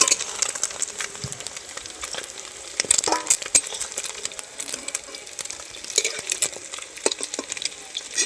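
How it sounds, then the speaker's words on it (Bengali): Egg paneer pieces fried light golden in oil in a pan: a continuous crackling sizzle with frequent sharp spatter pops and stirring clinks, close and fairly loud throughout. "ডিমের পনিরগুলো আমি হালকা লাল লাল করে ভেজে নিয়েছি।"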